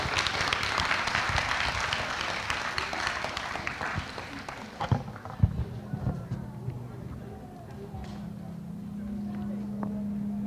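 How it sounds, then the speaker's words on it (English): A live-stream audience gives a panelist a round of applause, a moderate scattered clapping that fades after several seconds into quieter room noise and a low hum. "if we could just give one more round of applause for her."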